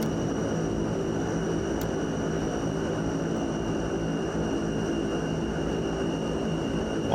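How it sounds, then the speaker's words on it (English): An aircraft engine spins up alongside other loud running engines, giving a steady, dense, close roar that keeps an even level throughout with a faint high whine on top. "Let's start this engine."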